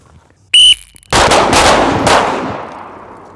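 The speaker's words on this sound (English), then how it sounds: "you're gonna shoot one shot" A whistle blows on an outdoor shooting range during a tactical pistol course, then a single sharp pistol shot cracks loud and close, its echo rolling and fading away.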